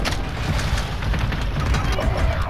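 Cluster-gun blasts in a video game: a dense, continuous run of loud overlapping booms and pops, close and sustained for a couple of seconds without pause.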